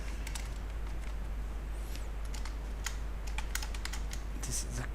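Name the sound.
typing PHP code on computer keyboard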